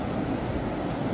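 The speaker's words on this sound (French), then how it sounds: "il y a beaucoup moins de vagues que l'autre jour" Ocean waves washing onto the Plage du Cancro on a calm, sunny day, a steady broadband wash of surf with some wind noise on the microphone, continuous and moderately loud with no talk.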